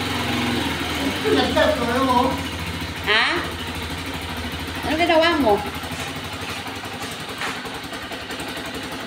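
A small motorcycle engine runs at a steady idle throughout, with a few brief revs rising and falling, while people talk nearby over it.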